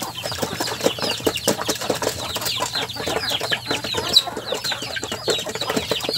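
A flock of 45-day-old chicks cluck and chirp steadily and densely during feeding, with brief wing flutters among the close, busy calls.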